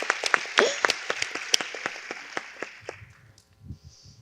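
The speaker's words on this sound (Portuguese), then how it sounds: "Palmas para vocês." Audience applause for two authors at a literary talk, a spell of clapping with distinct sharp claps that tapers off, followed by faint murmuring voices.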